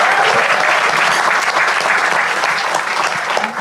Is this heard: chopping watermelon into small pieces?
no